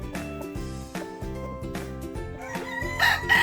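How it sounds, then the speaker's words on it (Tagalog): A broodcock rooster crows at a game farm, with a clear, loud cock-a-doodle-doo rising near the end over background clucking from other fowl and steady farm ambience. "Broodcock yata to guys, broodcock, sorry."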